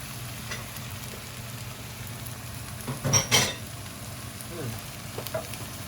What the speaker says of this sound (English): we are going to add another little bit of oil. Just a touch. And we're going to add 3/4 of a pound of crawfish tail.